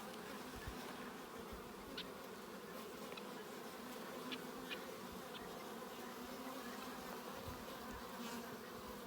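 Dense, steady buzz of honeybees at a beehive in a bee yard, a continuous close hum with faint individual bees passing, no voices.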